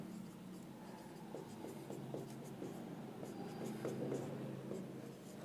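Pen scratching across paper while a math solution is written out by hand, a soft continuous scrawl with faint strokes, quiet and close over a low background hum.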